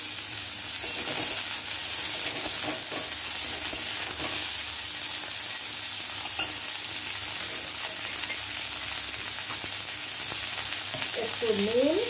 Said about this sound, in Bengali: এখন সবসময় খুব কম কম তেল দিয়ে রান্না করছি, তো ওই জন্য একটু নেড়ে দেবো উচ্ছেগুলো।